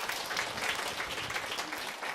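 A church congregation applauds during a Sunday worship service, a short burst of many hands clapping at a steady, moderate level without any speech.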